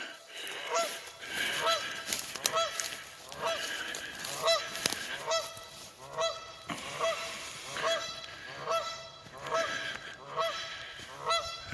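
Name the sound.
goose honking warning call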